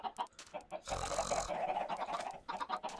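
Minecraft chickens cluck in quick, short bursts, with a brief burst of game noise partway through and steady pecking clucks continuing close by.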